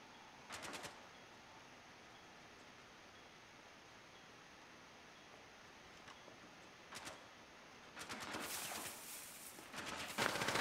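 Gunfire in Rainbow Six Siege as a camera is shot, heard as a quick burst of shots early on, a single shot later and then a denser volley near the end, all fairly faint over a steady low hiss.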